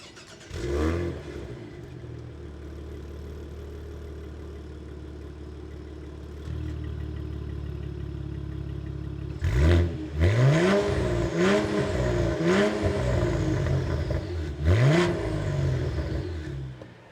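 A 2023 Cadillac CT4-V Blackwing compact performance sedan cruises with a steady engine hum, then revs hard through several loud, rising acceleration pulls with gear changes.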